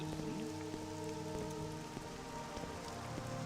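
Steady rain falls in Morrowind, a dense continuous patter on surfaces with scattered droplet ticks, constant and fairly close, over a low hum.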